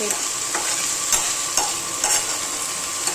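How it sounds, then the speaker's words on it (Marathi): Bitter gourd (karela) frying in a pan gives a steady, close sizzle and hiss, with a few soft stirring scrapes rising out of it. Nobody speaks. "थोडंसं फ्राय होत आलेलं आहे आता."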